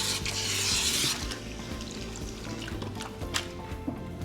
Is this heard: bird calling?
no